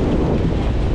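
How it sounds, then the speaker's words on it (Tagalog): Strong sea wind roars into the microphone at Siargao in a short, loud, steady low rumble, with no voices. "Malakas ang hangin."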